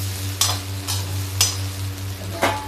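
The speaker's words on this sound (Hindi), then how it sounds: "अब इसको हम थोड़ा सा फ्राई कर लेते हैं" Okra (bhindi) frying in a pan with green chilies, stirred in four distinct scraping strokes over a steady low sizzle and hum, close and moderately loud.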